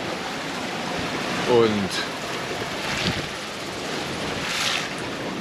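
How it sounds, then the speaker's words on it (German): Steady, heavy 20 to 25 knot south wind roaring across the open Pacific near Nuku Hiva, with a broad rushing wash and gusty swells, a voice briefly speaking over it. "Und dann haben wir plötzlich jetzt Südwind mit 20 bis 25 Knoten Wind."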